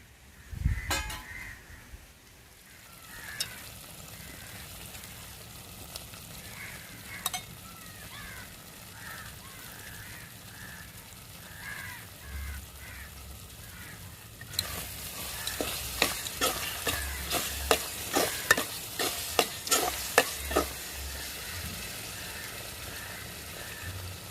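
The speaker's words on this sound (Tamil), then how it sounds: "முந்திரி பருப்பை நெய்யையும் சேர்த்துக்கிறோங்க" Cashews fry in ghee for beetroot halwa. A faint, steady sizzle runs under intermittent scraping and knocking of a spoon against the pan, and the stirring grows louder and more rhythmic in the second half, with a crow calling in the distance.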